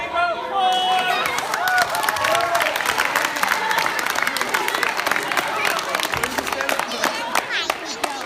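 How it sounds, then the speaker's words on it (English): Students in a school assembly hall applaud after a reptile and exotic animal demonstration, a dense, sustained burst of clapping and cheering from a large audience with some chatter mixed in. "Give a big round of applause."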